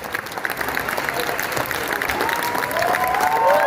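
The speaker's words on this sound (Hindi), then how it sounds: "तालियां रुकनी नहीं चाहिए।" Sustained audience applause at a televised Hindi studio event welcoming Acharya Prashant and anchor Chitra Tripathi, dense steady clapping from a large crowd with faint cheering rising near the end.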